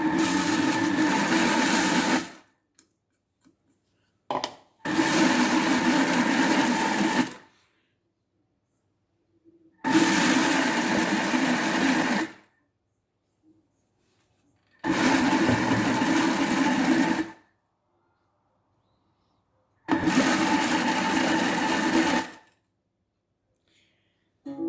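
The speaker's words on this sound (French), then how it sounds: "on est en mode pétrin et je vais rajouter mes pépites de chocolat" A stand mixer kneads brioche dough with added chocolate chips, running in five loud, even bursts of about two seconds each, split by short silences.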